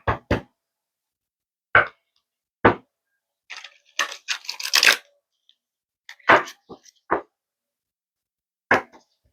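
Tarot cards being shuffled by hand in a quiet room, with sparse sharp taps and short riffling bursts, one longer flurry in the middle, close and isolated against silence.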